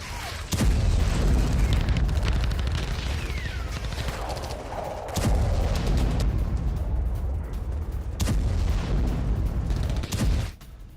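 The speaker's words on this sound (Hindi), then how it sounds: "तोरेस्क में यूक्रेनी टैंक का विध्वंसक एक्शन दिखा है। बिल्डिंग में छिपे रूसी सैनिकों पर शेलिंग हुई।" A Ukrainian tank shells a building holding Russian soldiers in Toretsk, with three or four heavy booming blasts spaced a few seconds apart amid rumbling, loud and reverberant.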